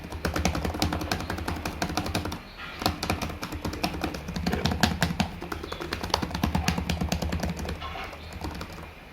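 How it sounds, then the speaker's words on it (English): Rapid, continuous typing on an HP Omen 15 (2021) laptop keyboard, with dense clicking keystrokes close to the microphone and a brief pause partway through. "So here's what typing on this keyboard sounds like."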